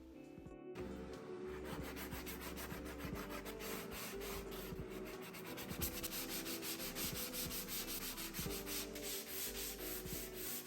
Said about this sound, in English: I will be sanding it and also sand the top surface to help the paint adhere better to the material.